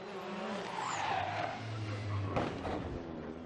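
A WTCR touring car skids into a corner during a 2019 race in Morocco, its tires screeching over a steady engine roar that carries on throughout.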